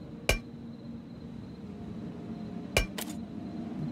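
A hammer strikes stone in the survival video game Plains of Pain: two sharp, clinking metallic hits about two and a half seconds apart, the second followed quickly by a lighter tap, over quiet game ambience.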